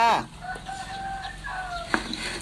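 A rooster's crow trails off at the start, followed by faint drawn-out tonal calls and a brief sharp cluck amid background noise.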